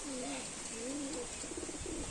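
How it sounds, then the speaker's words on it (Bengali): Pigeons just let out of their loft and perched in the sun coo steadily, with several drawn-out, warbling calls close by over a faint background hiss. "দেখো সব পায়রাগুলোকে আমরা ছেড়ে দিলাম ঠিক আছে সব এখন রোদে এসে বসেছে"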